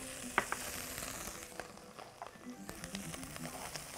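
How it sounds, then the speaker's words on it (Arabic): Chopped vegetables and a little garlic sautéing in a pan, a soft steady sizzle with scattered crackles and pops from stirring, quiet and close with no talk. "الخضروات الاول اهو هشوحهم كده بحته تومه صغيره"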